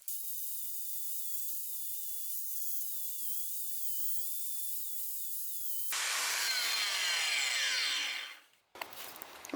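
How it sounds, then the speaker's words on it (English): An angle grinder grinds down a flux-core weld on a rental trailer, a steady loud high whine running for about six seconds, then a harsher, rougher burst of grinding before it cuts off and the tool spins down. "let's turn the welder off and grind that down"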